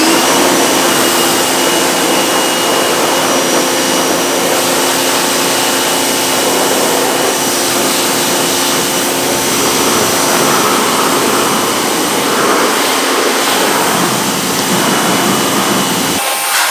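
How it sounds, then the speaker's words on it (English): A pressure washer rinses a car's engine bay, a loud continuous hissing spray with a steady motor whine running nearly unbroken, then cutting off abruptly near the end. "So let's go ahead and rinse it off."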